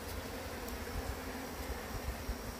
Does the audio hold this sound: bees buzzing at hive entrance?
yes